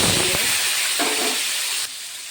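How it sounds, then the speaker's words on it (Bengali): Potatoes fry in hot oil for a cauliflower roast, giving a loud, close, steady sizzling hiss that drops suddenly in level near the end. "এখন আলুটা ভেজে নেব ওই তেলেই আমি আলু"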